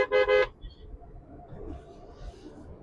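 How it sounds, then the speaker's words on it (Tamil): A car horn honks twice in quick succession, loud and close, from a speeding vehicle on a dangerous road, followed by a low rumble of passing road traffic. "ஒருத்தர் ஹார்ன் அடிச்சுட்டு வந்துட்டு இருக்காரு வேகமா"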